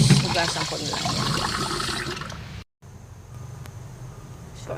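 Bitter gourd is rinsed under running water, a close, steady splashing rush that stops abruptly after a few seconds. A softer, hissing background follows once the water is off.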